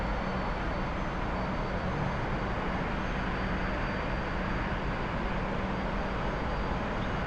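A T-45 jet aircraft in the flight simulator game DCS drones as a steady, loud broadband engine roar that holds constant throughout with no voices.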